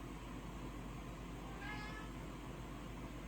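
A kitten gives one short, faint meow partway through, nearly lost in the steady hum of an indoor room, with no talking.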